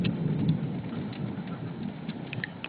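Steady rain falls through a storm with a broad, continuous hiss and patter, joined by a low rumble of thunder, heard on its own with no talking.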